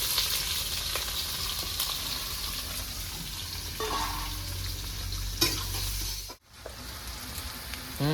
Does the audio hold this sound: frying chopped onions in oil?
yes